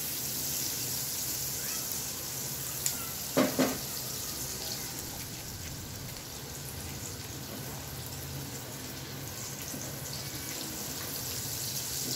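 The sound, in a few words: garlic frying in hot cooking oil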